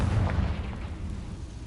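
A Confringo spell explodes in the video game Hogwarts Legacy, a loud, heavy booming blast with a rumbling low end that decays over a second and a half.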